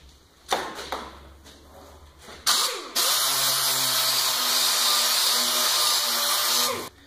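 A Roquite orbital sander works polyester body filler on a car panel, a steady, loud, continuous whir with a higher abrasive hiss, starting after a few brief taps and knocks and running several seconds before stopping.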